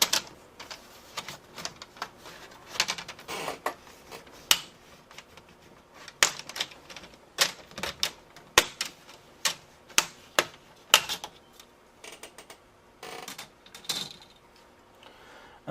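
Plastic screen bezel on a Compaq laptop is pried off by fingernails, giving a series of sharp, close clicks and snaps at irregular intervals, some clustered, others spaced apart, with near silence between them.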